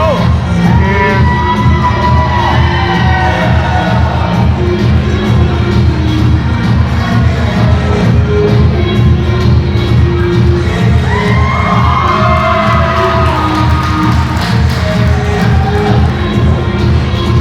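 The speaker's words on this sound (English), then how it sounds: "the crowd clearly behind Dallas here" Large indoor wrestling crowd cheering and shouting in a loud, continuous roar, with higher voices and whoops rising above the din and no clear speech.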